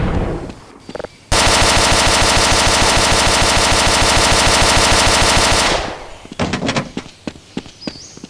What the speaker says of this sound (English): Oh yes, the Gatling gun and cannon.